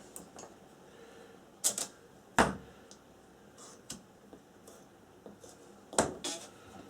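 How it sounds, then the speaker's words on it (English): Adhesive tape is pulled and pressed onto a curved plastic card for a model aircraft build, a few sharp close tearing snaps and crackles scattered over a quiet room. "Let's just use a couple of pieces of tape"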